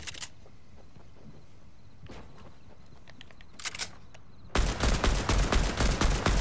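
Rapid video-game gunfire in a snowfall shuffle match: a few faint shots early, a brief burst near the middle, then a loud, sustained string of automatic fire in the last two seconds.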